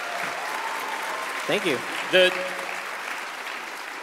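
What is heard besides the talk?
audience applause for the art department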